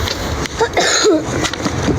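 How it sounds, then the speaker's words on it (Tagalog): A few short, harsh coughs in a noisy indoor setting, with a voice briefly sounding between them. "Ay, inuubo ka."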